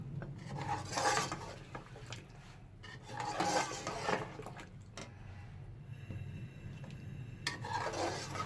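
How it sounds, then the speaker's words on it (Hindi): A spoon mixing a flour slurry into beef nihari in a pot, with rhythmic scraping and clinking against the metal in bursts and a faint simmer beneath, no talk. "अब इसे हम मिक्स करेंगे।"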